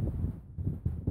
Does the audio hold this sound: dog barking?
no